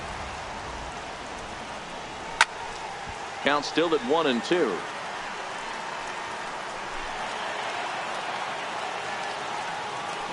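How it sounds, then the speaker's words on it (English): Steady rain hiss in a baseball game in MLB 18 The Show, with a Cincinnati Reds broadcast. A dense, continuous wash of rain runs under a brief commentator voice, with a sharp click and a short burst of crowd-like noise. "it is really coming down out there. This isn't an easy sport to play in the rain."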